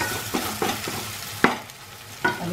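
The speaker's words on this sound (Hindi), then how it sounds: "मसाला भुन गया है" Spice masala frying and being stirred in a pan for eggplant and tomato chutney, with a low sizzle and a few distinct scraping stir strokes spread over the stretch, fairly close.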